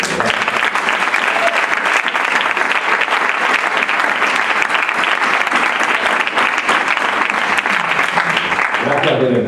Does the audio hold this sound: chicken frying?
no